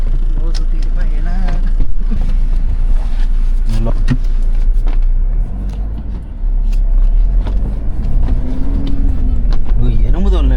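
A Toyota Fortuner diesel SUV driven hard, its steady engine and road drone running loud and close throughout, with people talking over it inside the cabin.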